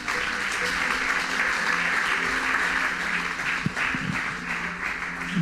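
A church congregation applauds and cheers during a French-language sermon, a continuous dense wash of clapping that holds steady at moderate volume for the whole stretch, with faint voices mixed in.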